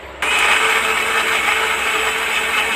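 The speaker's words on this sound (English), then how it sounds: "Once again I am grinding, so because it is very small." A mixer grinder runs at full speed blending mango for a milkshake, starting abruptly and holding a loud, dense, steady whir close by until the end, with no voices.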